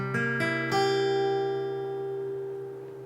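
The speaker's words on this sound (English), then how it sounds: "So this is dominant 7th chord." A dominant 7th chord strummed on guitar rings out with three quick strums close together, then the full chord sustains and slowly decays, played alone.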